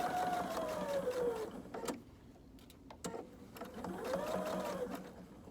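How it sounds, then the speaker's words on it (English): A sewing machine stitches a back pocket onto pajama pants in steady motorized runs, pausing briefly in the middle with a few clicks as the needle stops and fabric is pivoted, then resuming at a close, even drone. "And I'm going to sew up to the top of the pocket."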